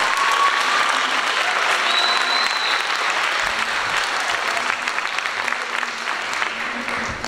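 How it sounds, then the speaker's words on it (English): At the Harriton High School spring choral concert, an audience gives a strings teacher a sustained round of applause: thick, steady clapping that stays loud for the full seven seconds and tapers slightly at the end. "How about a round of applause for Jessica Vellante?"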